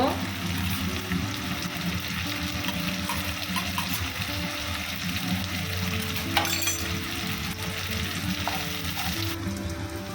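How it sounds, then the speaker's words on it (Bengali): Onion and chopped green chillies fry in a pan for chilli chicken, a dense continuous sizzle with occasional stirring scrapes and clinks, heard close up under a low background hum. "পেঁয়াজটা হালকা ভাজবো বেশি ভাজবো না"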